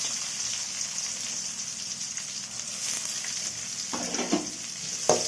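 Onions sauté in hot oil with fennel seeds, star anise and cinnamon for a pea kurma, giving a steady close sizzle with a couple of sharper stirring scrapes near the end.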